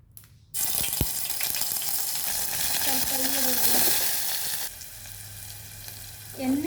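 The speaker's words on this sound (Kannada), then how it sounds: "ಸ್ವಲ್ಪ ಎಣ್ಣೆ ಕಾದ ನಂತರ ಇದಕ್ಕೆ ಸ್ವಲ್ಪ ಜಿಂಜರ್ ಗಾರ್ಲಿಕ್ ಪೇಸ್ಟ್ ಹಾಕ್ತೇನೆ" Ginger garlic paste dropped into hot oil bursts into a loud, steady hiss and crackle that holds for a few seconds, then settles to a quieter sizzle, close by.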